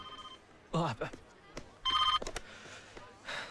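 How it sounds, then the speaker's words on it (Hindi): A telephone rings in short electronic trills, twice, amid overlapping voices and clatter, fairly close. "फोन बज रहा है"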